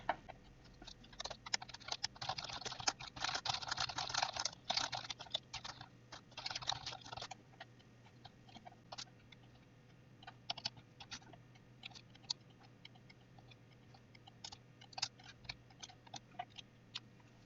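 Quiet close typing on a computer keyboard while writing JUnit tests, with a dense flurry of keystrokes early on, then sparser scattered clicks and pauses, no talking.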